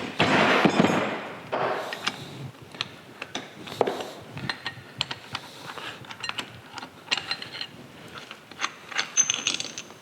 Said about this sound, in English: I'm going to use a lead hammer here. Break those loose.